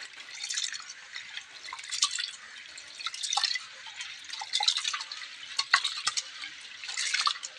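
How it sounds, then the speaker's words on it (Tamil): Soaked rice and lentils are rinsed in water for an Arisi paruppu vadai batter, giving soft, irregular splashes and drips with hand-swishing sounds that rise and fall, close by and fairly quiet. "இதெல்லாம் அப்படியே தண்ணி ஊற்றி நல்லா கழுவி அலசிக்கலாம்"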